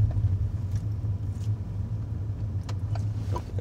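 Steady low road rumble heard from inside a moving Peugeot Citroën (PSA) autonomous test car, a constant hum with faint ticks and no talk over it.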